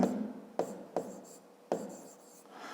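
Pen or pencil writing out a math equation on paper, soft scratchy strokes with a few sharper taps, close and quiet.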